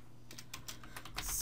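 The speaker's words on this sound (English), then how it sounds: "So you want to type player, capital P" Quiet, irregular clicks of a computer keyboard being typed on, a short burst of keystrokes with no voice over them.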